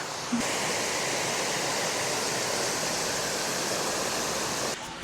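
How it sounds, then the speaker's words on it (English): A waterfall at a roadside stop gives a steady, dense rushing roar that holds evenly from start to finish, close and loud, with no voices over it. "That waterfall behind me there is probably frozen in the winter."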